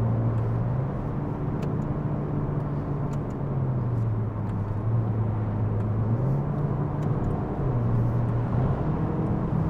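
Inside a 2022 Peugeot 508 GT with a 1.6 PureTech engine and EAT8 automatic on the road, a steady engine drone rises and falls in pitch through downshifts over constant road rumble.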